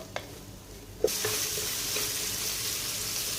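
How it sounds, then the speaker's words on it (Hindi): Onion, grated ginger and green chili frying in oil over a high flame: a few faint clicks, then a sudden loud sizzle as the food hits the pan, which crackles steadily up close; no talking. "ये सारे मसाले को हम लाइट सा गोल्डन करेंगे हाई फ्लेम के ऊपर।"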